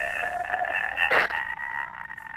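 A man imitates a zombie with his voice, a strained, croaking groan that swells into a harsher burst midway and then trails off.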